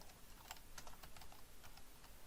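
Fast, close keystrokes rattle on a computer keyboard while HTML script-tag code is typed, forming a continuous quiet clatter with no speech.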